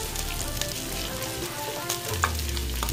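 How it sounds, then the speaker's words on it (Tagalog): Onions frying in a pan with golden-brown garlic for bopis, a steady close sizzle with a brief rise in low crackle near the end and no talking. "golden brown na yung ating garlic. So sunod natin yung"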